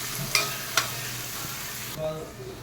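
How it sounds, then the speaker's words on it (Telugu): Onions and green chillies fry in hot oil with cumin, giving a steady low sizzle with a few sharp clicks of a utensil against the pan, close and fairly quiet, with no talking. "ఇందులో ఉల్లిపాయలు, పచ్చిమిరపకాయలు కూడా వేసేసుకుందాం. వేసుకొని వీటిని మంచిగా దూరగా అయ్యేదాకా వేయించుకుందాం"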